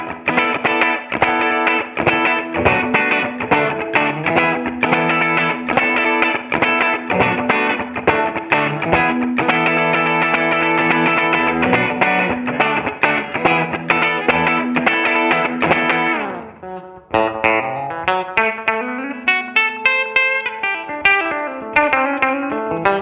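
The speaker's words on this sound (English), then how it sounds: "it also sounds amazing as a full-blown compressor" An electric guitar runs through a compressor pedal, playing a dense, even strummed and picked passage with sustained chords, then a brief pause and a sparser melodic run, loud and close with no talking.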